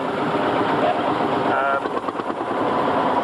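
A Marshall Series 2 two-stroke diesel engine runs at a vintage steam rally, giving a steady, dense mechanical drone with a faint rhythmic pulse that wavers slightly midway.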